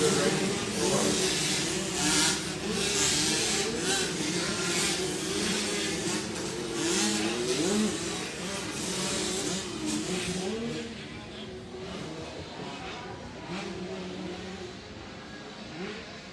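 Motocross motorcycles race side by side at Doublin Gap MX, engines revving and whining steadily at mid distance, with a commentator talking over the continuous roar throughout.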